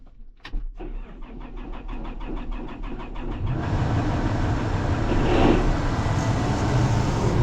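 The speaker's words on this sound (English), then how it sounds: "Man, I wonder why that thing cranks over so long." A farm tractor's engine cranks over with a rapid, even chugging of the starter for several seconds, then catches and settles into a loud, steady running rumble nearby.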